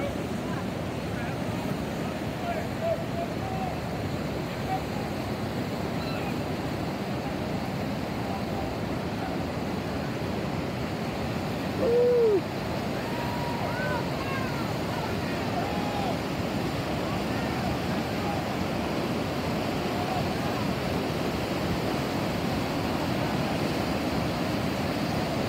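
River white water rapids rush in a constant loud roar with wind buffeting the microphone, unbroken for the whole stretch, with a brief voice surfacing faintly midway.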